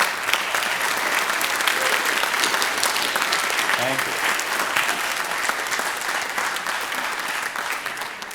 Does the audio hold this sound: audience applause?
yes